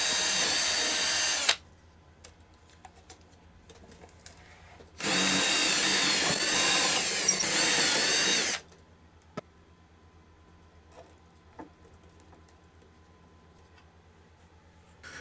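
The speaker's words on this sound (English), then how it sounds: "drill baby drill" Two loud, steady bursts of a power drill whirring during assembly of a 35-40cc Legend Hobby Cherokee model airplane's nose gear, separated by quiet gaps with faint clicks and handling noises nearby.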